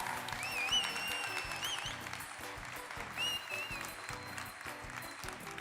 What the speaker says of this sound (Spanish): Así que vamos a aplaudirlos nuevamente.